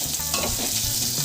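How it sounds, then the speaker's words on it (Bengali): Potatoes sauté in hot oil with salt and turmeric, a steady close sizzle with scraping stirring noises throughout. "লবণ আর হলুদটা দিয়ে আলুটা বেশ কিছুক্ষণ ধরে একটু কাল সাঁতলে নেব।"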